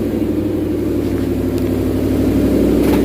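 Car engine on a dyno running an E85 tune, a loud, steady mid-pitched roar held at high revs throughout, close and continuous with no talking.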